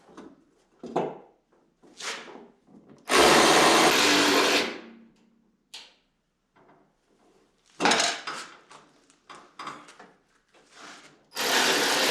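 A power tool tightens a bolt on a crashed Camaro, with a loud sustained whirring burst and shorter runs later, mixed with metallic clanks and tool handling in a garage.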